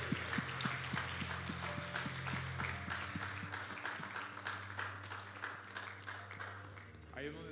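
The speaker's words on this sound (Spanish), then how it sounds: "Dale un aplauso al Señor." A church congregation clapping over sustained organ or keyboard chords with a bass line, fairly soft and continuous, with the music standing out above the scattered hand claps.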